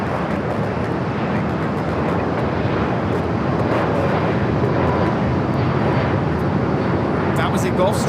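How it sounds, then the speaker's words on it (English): A Gulfstream G650ER jet passes near LAX with a broad, steady engine roar, loud and close throughout, as people talk over it. "That was a Gulfstream G650ER."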